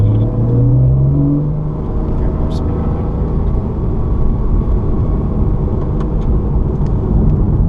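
Car engine accelerating hard out of a corner at Laguna Seca during a trail-braking exercise, a loud continuous rumble and rising drone close up throughout, with a voice talking over it.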